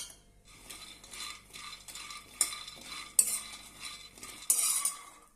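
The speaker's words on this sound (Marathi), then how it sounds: "आता आपण शेंगदाणे भाजून घेऊया" A cup of peanuts dry-roasts in a hot kadhai, the nuts rattling and rasping in repeated stirring bursts with metallic scrapes, close and fairly loud, and no voices.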